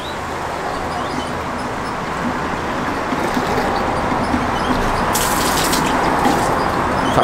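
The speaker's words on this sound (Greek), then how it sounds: "Θα το ξαναγεμίσουμε με νερό όλο." Water pours steadily into a watering bottle being refilled after cleaning, a close, continuous rushing and hissing flow that holds throughout at an even, fairly loud level with no talk over it.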